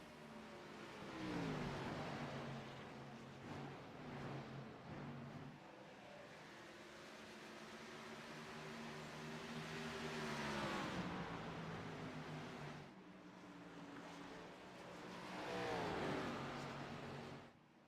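Race cars lap the Iowa Speedway oval, their engines heard from a distance as a rising and falling roar. Several waves build as cars sweep past and fade toward the turn.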